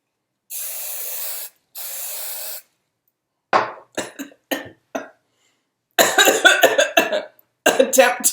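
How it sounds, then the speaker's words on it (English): Two long, even bursts of hairspray hiss onto the pulled-up hair of an 18th century wig, followed by coughing and throat clearing and then someone talking, all close and clear. "Pull the hair up and hairspray it."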